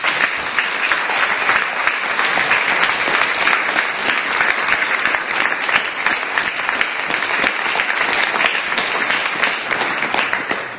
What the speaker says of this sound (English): could we salute the primary ambassadors of the school by giving them a round of applause